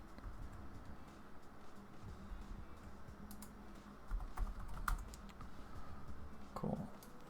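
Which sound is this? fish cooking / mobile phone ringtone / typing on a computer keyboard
typing on a computer keyboard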